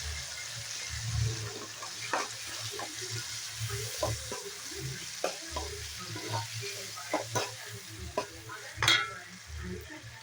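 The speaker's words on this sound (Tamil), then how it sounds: "ஆட் பண்ணி தக்காளி நல்லா எண்ணெயில் வதக்கிடலாம்" Tomatoes sauté in oil for a kuzhambu, a soft, steady sizzle broken by scraping stirs of a spoon against the pan at a quiet, close distance.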